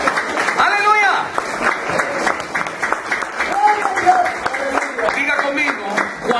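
Church congregation clapping in praise during a preacher's service, a loud, busy burst of applause mixed with voices and shouts, with people talking and calling out over the clapping throughout.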